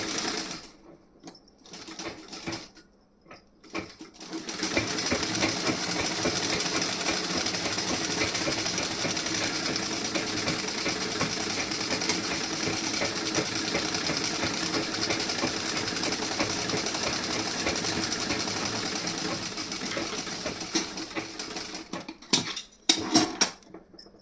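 A sewing machine stitches a blouse sleeve and back piece in one long continuous run, a close steady rattling whir lasting nearly twenty seconds, with brief handling clicks before and after.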